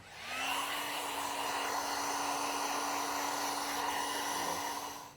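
Heat gun blowing on a Tesla Model 3 Highland rear emblem, a steady close whooshing hum with a constant motor whine that starts up and runs evenly throughout.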